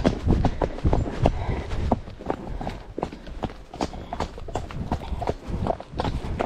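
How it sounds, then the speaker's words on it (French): A horse galloping outdoors, its hooves drumming in a fast, steady clip-clop rhythm close to the listener, with a rider's occasional voice and breathing mixed in. "Allez, tu voulais galoper, on galope."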